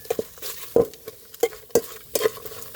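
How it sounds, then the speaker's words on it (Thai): Herbs and spices dry-roast in a pan without oil, stirred in a handful of sharp scraping and clattering strokes at an uneven rhythm over a faint background hiss, close and fairly quiet. "คั่วโดยไม่ใช้น้ำมันคั่วเปล่าๆจ้ะ"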